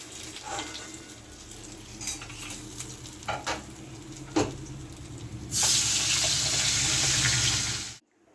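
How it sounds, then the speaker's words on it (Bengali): Katla fish fries in a pan with crackling sizzle and occasional scraping; the sizzle suddenly grows loud and hissing before stopping abruptly. "আমার মাছটা ভাজা হয়ে গেছে এবার বাদবাকিটা আমি ভেজে নেব"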